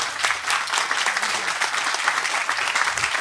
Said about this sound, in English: let's give Aleksander another big round of applause